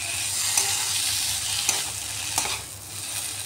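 Fried rohu fish is stirred together with eggplant in a pan, making a steady close sizzle of frying with a few soft scraping stirs, no voices.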